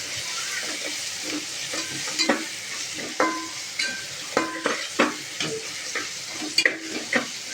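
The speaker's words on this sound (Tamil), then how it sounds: "நல்லா இதை வதக்கி விட்டுறணும்." Vegetables including carrot, beans, mint and coriander sautéing in a pan for vegetable biryani, a steady sizzle broken by repeated scraping stirs and clinks of a spoon against the pan, close and clear with no talk.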